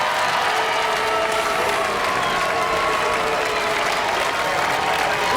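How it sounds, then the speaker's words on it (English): A Robot Wars studio crowd applauds and cheers in a dense, loud, unbroken wash of clapping and voices that holds steady throughout. "Listen to that hostile crowd."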